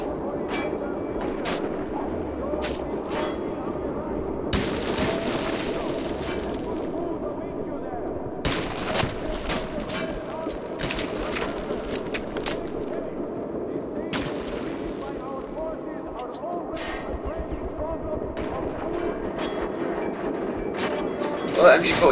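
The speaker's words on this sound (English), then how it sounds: "Well, that MG42 is still there." Heavy gunfire and booming impacts in the video game Metro 2033, including an MG42 machine gun firing, heard as scattered loud bursts and thuds over a dense rumbling backdrop with talk mixed in throughout.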